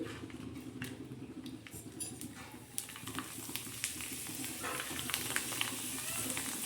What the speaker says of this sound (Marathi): हे पापड मी तुम्हाला कसे तळतात ते दाखवते कमी तेलामध्ये